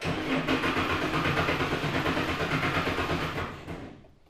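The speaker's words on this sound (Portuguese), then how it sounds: "o motor girou, mas não entrou em funcionamento" A tractor engine cranks over without catching, a steady, loud mechanical churning that runs continuously for about three and a half seconds before cutting off abruptly.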